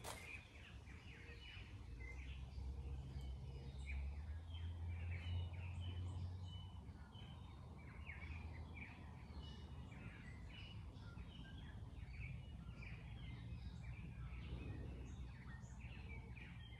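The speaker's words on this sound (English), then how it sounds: "The birds are nice, are they not?" Birds sing outdoors, with repeated chirps and short bright calls scattered over a quiet, faint background hum for the whole stretch and no voices.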